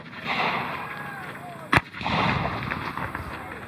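Civil War reenactment artillery, a cannon fired at an outdoor battle demonstration depicting October 1864: one sharp, loud boom midway through, standing out over a steady open-air background hum.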